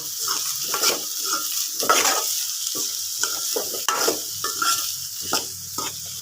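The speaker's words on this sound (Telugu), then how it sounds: "ఇక్కడ ఆనియన్స్ వేసేసుకున్నానండి." Onions frying in a pan for an egg curry with tender tamarind leaves, a steady close sizzle broken by repeated stirring scrapes and clinks of a spoon against the pan.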